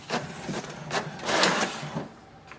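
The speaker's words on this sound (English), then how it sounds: "So printer immediately starts to print a page." An HP DeskJet 2752e inkjet printer prints a page, giving several rhythmic mechanical whirring and rasping passes of the print carriage and paper feed, close and fairly loud, with no talking.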